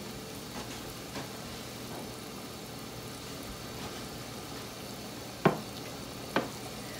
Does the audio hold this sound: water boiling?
yes